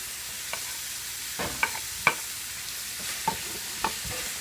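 Ground beef and onions frying in a pan, a soft steady sizzle with occasional scrapes and clinks of a utensil stirring, close by and fairly quiet, no voices.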